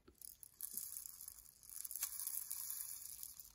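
Small plastic toy feed pieces poured into a Barbie farm playset barn, a crisp, crinkly rattling patter that runs steadily for a few seconds after a couple of light clicks.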